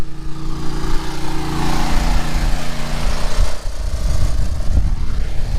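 A portable generator runs at a work site during a large power outage, a steady loud engine drone with harmonic hum and rough low-end chug that stays constant throughout, with no talking over it.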